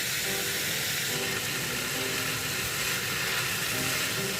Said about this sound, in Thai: เราจะทำโชว์พินแบบแห้งๆนะคะ คั่วให้สุกก่อนค่ะ